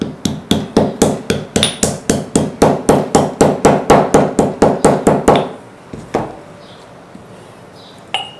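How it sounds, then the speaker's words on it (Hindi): Hard nutmeg pieces pounded in a kitchen before spice grinding, a steady run of about twenty sharp, loud knocks in quick regular rhythm, then a few scattered taps and quiet. "अब जायफल जो है वो सख्त में आता है, मशीन ख़राब ना हो जाए इसलिए इसको थोड़ा सा कूट के डाल दें"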